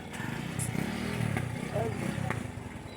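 A motorcycle engine runs close by with a steady low putter and rumble, while people talk over it.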